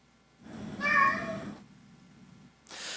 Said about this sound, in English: These are just your basic meows, right?